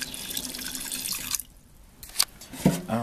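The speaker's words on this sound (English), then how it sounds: "So I'm just going to add some water." Water runs into a cooking pot to steam sweet potatoes, a splashing pour that briefly stops, then resumes with drips and a short gush close by.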